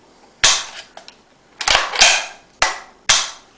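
Crisp mechanical snaps and clacks come from an AR-180B rifle during a trigger and safety function check: a few sharp, close metallic clicks spaced apart, with a small cluster in the middle and no talking.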